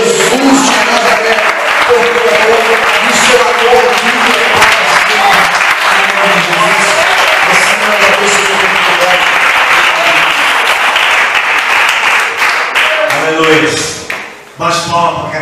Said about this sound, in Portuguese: Levanta a mão para cima, adore e aplauda Jesus de Nazaré.